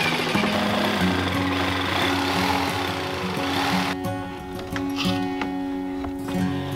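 Power tool cutting a 7-inch hole through the metal body of a van for a wood stove flue, a loud, steady grinding whine that runs throughout and changes tone partway through.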